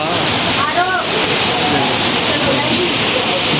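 Heavy rain pours down steadily and loudly on an evening as darkness falls, a dense continuous wash close by, with a person's voice faintly audible underneath the downpour.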